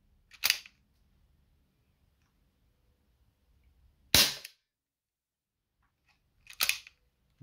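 Airsoft Colt Python 6-inch revolver fires three sharp, loud single shots spaced a few seconds apart, each a crisp crack with quiet gaps between.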